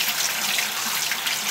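Steady broadband splash of tap water running continuously while blackworms are rinsed in a container, a close, even hiss with no pauses.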